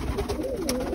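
Birmingham Roller pigeons coo softly and close by, a short low burbling call.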